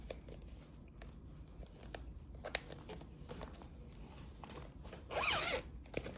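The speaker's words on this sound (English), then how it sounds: "Pardon the zipper." A clothing-style zipper pulled open in one quick, loud rasping stroke near the end, after a stretch of quiet handling rustles and small clicks.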